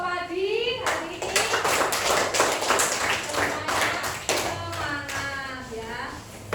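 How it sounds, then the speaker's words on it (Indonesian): Children in an elementary school classroom clap for a student group, a scattered patter of hand claps running under a teacher's and children's voices. "Silakan tepuk tangan untuk kelompok padi hari ini."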